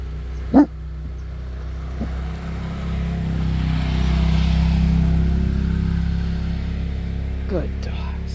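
Several dogs bark in short bursts, a couple of sharp yips standing out near the start and end over a steady low rumble, likely an idling car, with people talking nearby.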